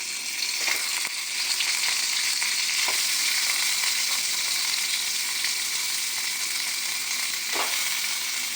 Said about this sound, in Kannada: ಇವಾಗ ಚಿಕನ್ ಹಾಕೊಳ್ಳೋಣ.